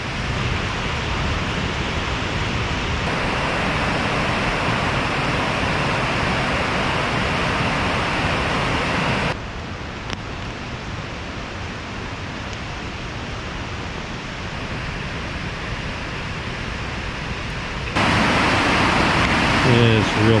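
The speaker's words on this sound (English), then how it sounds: "Not a whole lot of noise outside of the roar of the creek rapids." Steady, broadband roar of rushing creek rapids in Ketchikan, Alaska, fills the whole stretch, loud and constant with a few shifts in level.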